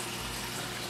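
Powerheads in a 46-gallon reef aquarium pump and circulate water, giving a steady, close, continuous rushing wash with a low hum underneath and no break.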